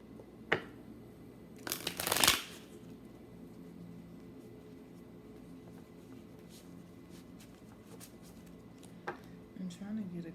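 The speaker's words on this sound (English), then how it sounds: "I'm trying to get a good shuffle in before I start." Tarot cards being shuffled by hand in a quiet room, with a loud riffling burst near the start and a few softer card flicks near the end over faint background hiss.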